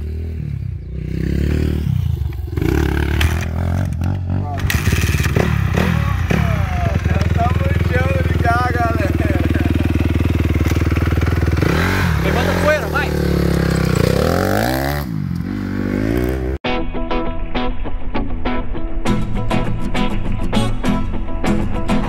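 Motocross motorcycle engine cranking and catching, then revving loudly and steadily for most of the stretch with rising and falling pitch, close by, with voices and clatter mixed in near the start.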